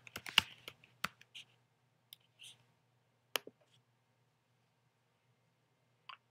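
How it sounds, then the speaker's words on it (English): Program name being typed on a computer keyboard: a few sparse, close key clicks with long pauses between them, quiet and without talk. "we type uh, donarius here"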